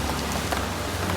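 Light rain falls on a flooded street in Bangalore, a dense, even hiss of drops hitting water and hard surfaces. The sound stays close and steady for the whole short stretch.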